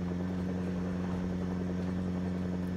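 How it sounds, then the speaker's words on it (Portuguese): A helicopter in the Project Zomboid video game flying overhead with a steady, loud rotor drone and thumping beat that holds constant throughout, with no talk. "Ah, o helicóptero meteu o pé, mas daqui a pouco ele volta."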